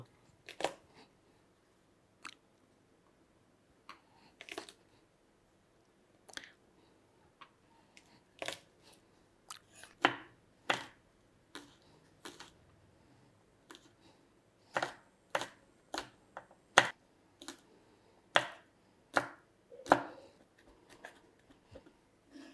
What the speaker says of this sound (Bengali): রসুনগুলো যে বড়ো সাইজের এগুলো কুচি করে নেব